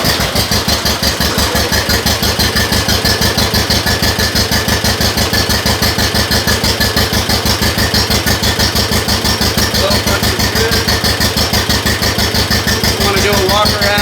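An engine started for the first time after a rebuild, running loud and steady at idle with a dense, even pulse throughout, close up.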